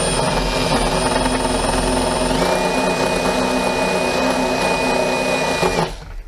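A power drill fitted with a DeWalt DT7513T attachment runs loudly and continuously at a steady whine, then cuts off abruptly near the end.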